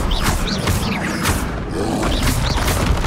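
The Incendio fire spell in Hogwarts Legacy, cast during a River Troll fight: loud repeated whooshing bursts and booms over a dense rumbling backdrop of combat noise, with no voices.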